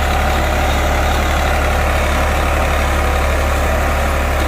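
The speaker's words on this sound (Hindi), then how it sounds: "बढ़िया काम कर रहा है ट्रैक्टर।" A New Holland 3630 Plus 4x4 tractor pulling a sugarcane planter in a field, its diesel engine running in a steady, loud, unbroken drone close by, with no voices.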